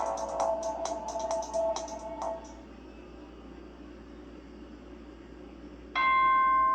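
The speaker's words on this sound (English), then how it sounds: "Ding dong bing bong, it's nighttime." The nighttime announcement chime from the video game Danganronpa Trigger Happy Havoc plays as a quick run of bright, bell-like tones, then goes quiet before a single sustained electronic tone sounds at the end.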